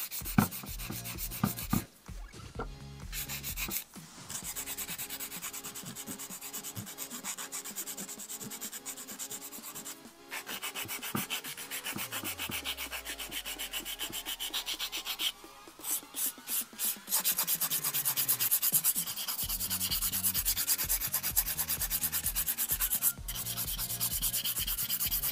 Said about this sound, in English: I'm going to go in my hand file. And perfect that shape.